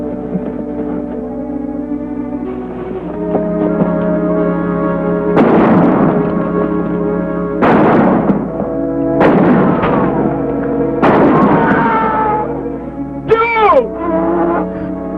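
Gunfire in a western film shootout, several loud booming shots spaced a second or two apart over a steady musical score, with a voice briefly heard between them.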